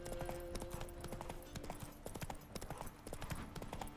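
Hooves of the horse Roach clip-clopping at a gallop in a video game, a steady quick rhythm of close, crisp hoofbeats with faint background tones.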